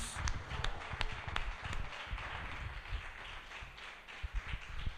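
A church congregation claps during a Portuguese-language worship service, scattered sharp hand claps and taps over a busy background with some faint voices, uneven and fairly close.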